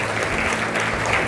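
A church congregation claps together in a dense, steady burst of applause that fills the room, with no talking over it.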